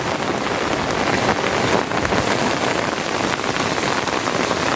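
Torrential monsoon downpour in Konkan roars without a break, a thick close wash of rain drumming on surfaces.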